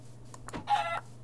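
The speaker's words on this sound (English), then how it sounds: "Chicken." Minecraft chicken clucking in the video game, a brief burst of a few soft clucks at moderate distance over a low steady hum, with no talking.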